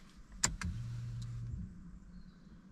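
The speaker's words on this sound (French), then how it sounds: "vais démarrer le moteur, histoire que vous puissiez avoir un aperçu" A Ford Focus 1.6 16v petrol engine cranks and starts, a sharp click followed by a brief whirring crank that settles into a quiet, steady idle hum, faint and without talking.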